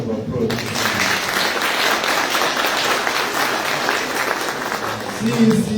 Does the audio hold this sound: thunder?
no